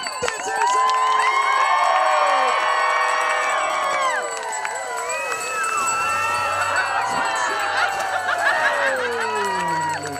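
A crowd at the Mount Washington Slush Cup cheers and shouts loudly and continuously, with children's yells and laughter mixed in and an announcer's voice over the noise.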